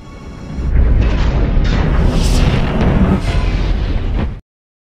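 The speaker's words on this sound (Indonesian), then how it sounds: "Akibat ledakan tersebut, kapal selam Kapten Jagger terguncang dan me" A heavy, rumbling torpedo explosion against a World War II German submarine swells quickly and roars for several seconds before cutting off abruptly.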